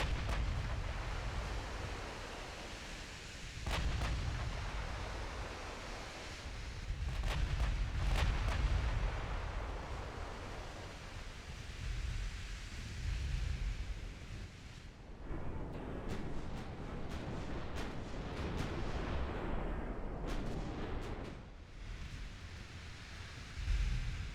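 Main guns on a warship fire in Ultimate Admiral Dreadnoughts during a USA naval battle: a run of heavy, booming salvos at irregular intervals over a low, constant rumble of sea and engines.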